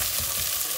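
Vegetables frying in a pan as the base for arugula soup, a close, steady crackling sizzle with no voices over it.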